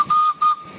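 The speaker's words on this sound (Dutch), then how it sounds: "Als je een goede fluit hebt, betekent dat je genoeg druk hebt." Two short, shrill steam locomotive whistle blasts, each about a quarter second, with a breathy hiss underneath.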